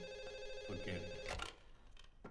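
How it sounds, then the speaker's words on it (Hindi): A telephone ringing with a bright, steady electronic tone for about a second before cutting off, followed by softer clicks and room noise, fairly faint, with no talking. "कितना टाइम लगा दिया फोन उठाने में?"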